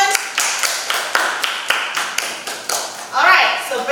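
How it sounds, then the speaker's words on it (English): Classroom applause for a student's performance: a few people clap in uneven, fairly close taps over several seconds, with background talk rising near the end. "Could you please give a applause to your friend's performance?"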